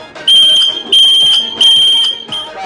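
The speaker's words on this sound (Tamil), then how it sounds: "இப்ப ட்ரெண்டிங்ல இருக்க விசில் ஹார்ன் பார்ப்போம்" Three long, shrill whistling horn blasts with short gaps between them, piercing and loud, with a fourth starting at the end.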